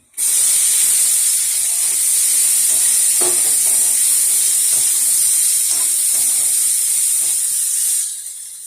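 Potatoes dropped into hot oil already holding dried red chillies and black cumin burst into a loud, close, continuous sizzle that holds steady for several seconds before easing off, with faint utensil knocks underneath.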